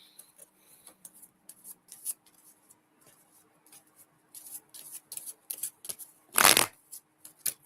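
Tarot cards are shuffled by hand in quiet, irregular rustling bursts that grow busier, ending in one loud, sharp riffle up close.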